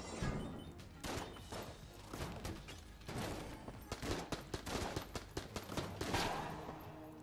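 Shotgun blasts ring out in the video game Enter the Gungeon, a rapid string of loud, sharp, booming shots fired in quick bursts with only brief gaps between volleys.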